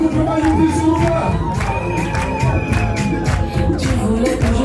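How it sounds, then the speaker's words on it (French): Wedding audience cheering and shouting for a couple, a loud dense crowd roar with whoops and children's shouts, continuous throughout with no clear clapping. "Les applaudissements nourris pour le couple Bayoupi"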